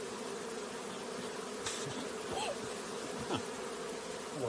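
Bees buzz steadily in a dense, continuous drone, with individual insects whining past now and then.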